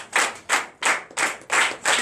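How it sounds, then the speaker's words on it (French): Rhythmic group clapping from a congregation at a Sunday church service in Benin, steady bursts of hands about twice per second, loud and close, with no talking. "Donnez l'acclamation de suite."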